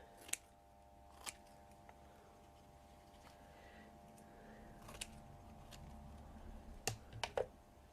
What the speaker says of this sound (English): really all I'm going to do is just trim it